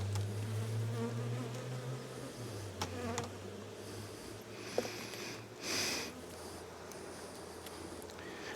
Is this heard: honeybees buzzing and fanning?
yes